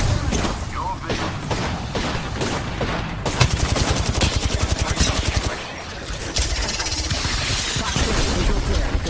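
Rapid bursts of gunfire from a shooter video game, dense automatic volleys and single shots rattling almost continuously with brief gaps, loud and close, mixed with game effects.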